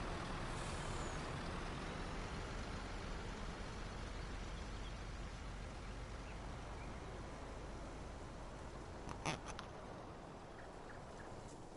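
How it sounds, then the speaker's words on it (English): A truck in Farming Simulator 19 gives off a steady, loud air-leak hiss that fills the whole stretch, with a short sharper burst near the end and no voices over it. "It almost sounds like my truck has an air leak."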